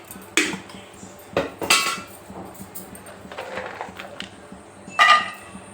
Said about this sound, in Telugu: స్టవ్ వెలిగించి ఒక కడాయి పెట్టి ఒక స్పూన్ నూనె వేసుకొని